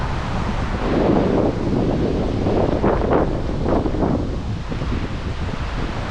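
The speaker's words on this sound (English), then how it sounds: "Oh, I can't believe the wind that's around." Strong wind buffets a microphone continuously, a loud roaring rumble that swells and gusts, recorded during a motorcycle ride stop in Tintinara, South Australia.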